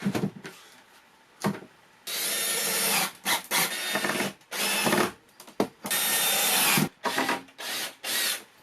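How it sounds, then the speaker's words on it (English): Cordless power drill driving screws to fix a shelf to the wall of a converted bus, several whirring bursts of a second or two each with short pauses between, close and loud, alone with no talk. "I need to rest the shelf in place so I can screw it in"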